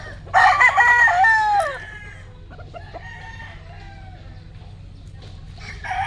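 A young rooster stag in a cording area crows once loudly up close, a strained cock-a-doodle-doo early on, followed by softer clucks and a fainter crow or two from other birds against a low steady background hum.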